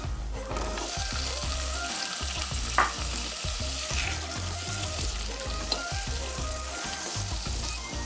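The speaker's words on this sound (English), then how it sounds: "So you will see me adding now cumin and some mustard seed. Adding in my pumpkin." Cumin, mustard seed and pumpkin frying in a hot pan for seasoned rice, a steady dense sizzle with bubbling and crackling, close and loud throughout with a few brief stirring clicks.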